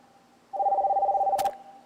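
A telephone tone sounds once on a live radio phone line, a steady warbling ring lasting about a second with a click at its end, alone and fairly clear.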